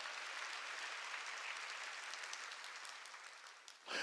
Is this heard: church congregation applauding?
yes